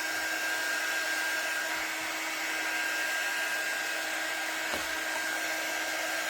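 A hair dryer blows steadily at close range to dry a handmade door hanger craft, a continuous even whoosh with a faint tonal hum and one brief knock near the end.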